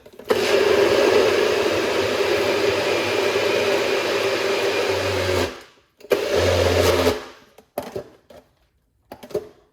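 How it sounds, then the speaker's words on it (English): A blender whirring loudly as it blends beet juice, running steadily for about five seconds, stopping briefly, then a shorter burst and a few quick pulses. "let's blend"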